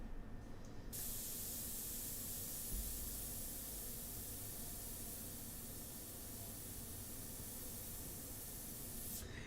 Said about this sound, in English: And then when I come in with the airbrush, it's going to really make sense.